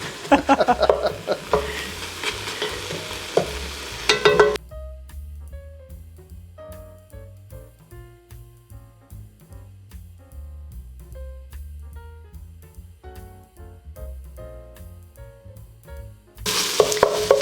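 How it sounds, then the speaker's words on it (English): Peppers and onions sauté in a pan, with a loud, dense sizzle for the first few seconds and again at the end. Soft tonal notes fill the quieter middle stretch. "the peppers and onions have sauteed for a little bit"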